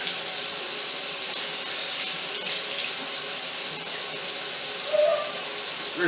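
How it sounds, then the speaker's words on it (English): Running water splashes steadily as cured white fish pieces are rinsed under a tap, a continuous hiss with no talking. "Rinse each piece off and it'll be good."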